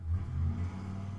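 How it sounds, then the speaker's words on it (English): Low rumbling road traffic of passing cars drifts in faintly from a distance, a steady muffled drone with a slight swell, heard alone without voices. "Sorry about the traffic noises."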